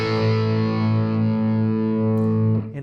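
A distorted electric guitar chord rings out loud and sustained for over two seconds, thick with overtones, then is cut off with a faint scrape of strings at the end.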